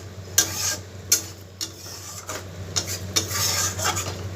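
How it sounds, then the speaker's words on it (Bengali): Egg mustard curry (dim sorshe) is scraped and poured from a pan into a bowl: close metallic spoon-on-pan scrapes and clinks in short repeated bursts over a low hum, no talk. "এটাকে ঢেলে নেব একটা পাত্রে"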